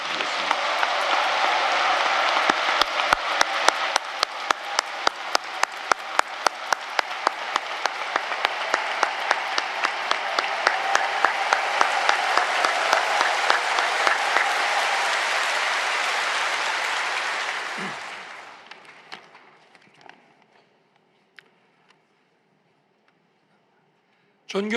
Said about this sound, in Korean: 이제 당선되신 우리 윤석열 20대 대통령 나오실 때 뜨거운 박수로 함께 맞아주시면